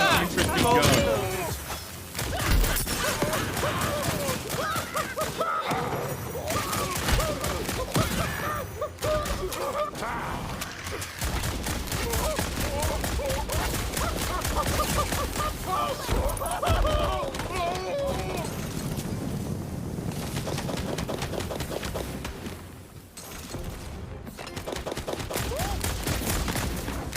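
Rapid, dense gunfire from a weapon in Tiny Tina's Wonderlands, loud bursts of shots crackling almost continuously over game music and effects, with a voice talking underneath.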